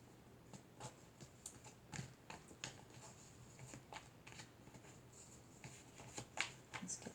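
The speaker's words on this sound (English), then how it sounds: "Let's get these shuffled up and see what happens." Playing cards are shuffled up close in a quiet room, a series of soft riffling bursts and taps at an uneven rhythm, faint and alone.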